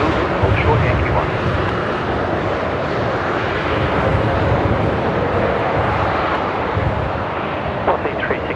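A Qantas A330 airliner taxiing at Brisbane Airport, a broad steady jet engine roar held at a constant level, with radio voices and talk over it.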